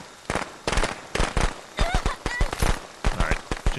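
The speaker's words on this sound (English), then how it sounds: "I am gonna step in these firecrackers though to get to rage a little bit quicker." Firecrackers pop in rapid irregular bursts in the video game Friday the 13th: The Game, loud and close, with a voice talking faintly beneath them.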